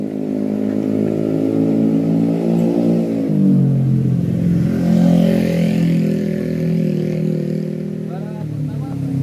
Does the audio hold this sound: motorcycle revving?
yes